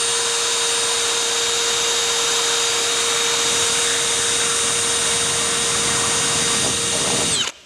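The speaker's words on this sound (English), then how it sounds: "we like to use step drill bits" A power drill fitted with a step drill bit whines loudly and continuously at a steady pitch for several seconds, then spins down abruptly at the end.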